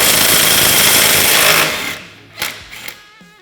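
An impact or power tool loosens the tie rod nut on a Honda Talon 1000R, giving a loud, steady buzzing rattle for well over a second before it cuts off, followed by a few short metallic clicks and taps.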